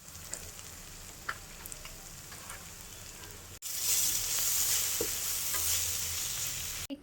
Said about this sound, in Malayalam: സവാള വാട്ടിക്കൊണ്ടിരിക്കുകയാണ്.